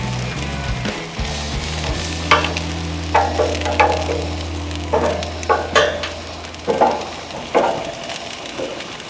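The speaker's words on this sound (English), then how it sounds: "It'll help me get a good, quick sear on these lamb chops" Lamb chops searing on a hot grill give a steady sizzle, with a low hum early on and a string of sharp crackles and pops that land every second or so.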